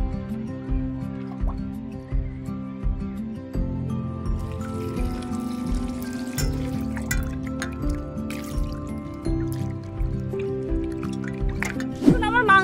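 Mutton pieces being rinsed by hand in water in a home kitchen, with close drips, trickles and wet squishing that run steadily under a faint hum, ending in a brief louder splash.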